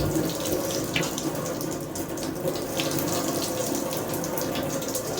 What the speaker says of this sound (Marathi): पाण्याने केस धुतो.